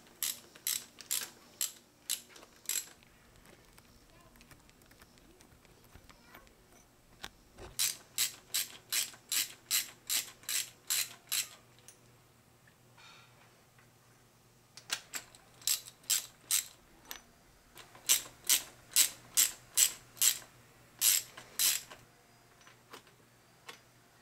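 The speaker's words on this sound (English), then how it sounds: "now we'll remove the spark plugs from the rest of the cylinders" A hand ratchet clicks rapidly in three separate bursts while loosening spark plugs on an Evinrude ETEC outboard engine, each burst a crisp, evenly spaced run of close, sharp ticks separated by short quiet pauses.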